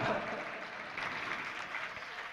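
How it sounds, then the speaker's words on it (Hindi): Audience applause at a Jain religious discourse (pravachan), a steady even wash of many hands clapping, moderately distant and fairly faint, continuing throughout with no voices on top. "तुम्हारे तालियों से हम प्रभावित होने वाले नहीं हैं"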